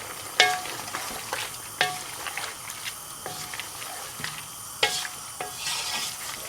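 Chicken with ginger and green chillies being stirred in a hot pan for bhuna chicken: a spatula clinks and scrapes in irregular strokes over a continuous close sizzle.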